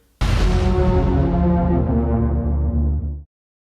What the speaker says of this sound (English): the movie has a very creepy sound effect in the trailer